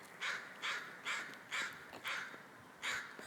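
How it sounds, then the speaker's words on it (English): A crow caws six times in an even, repeating rhythm, each harsh call clear and moderately near against a steady outdoor background hiss. "It's like the crow just like said that back to me in crow speak"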